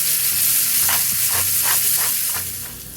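Onions caramelizing with salt and pepper in a pan give a loud, continuous sizzle and hiss, with soft rhythmic stirring scrapes repeating throughout, no talking.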